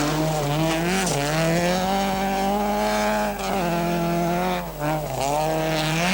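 A rally car from the 1985 Masterrally screams along a special stage, its engine loud and close with rising and falling revs through gear changes, holding a steady roar for several seconds with brief dips.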